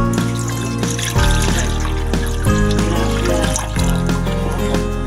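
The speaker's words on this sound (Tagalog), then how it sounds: "Maglagay tayo ng tubig." Water poured into a cooking pot for a milkfish soup, a steady splashing trickle with several rhythmic surges, close and fairly loud throughout.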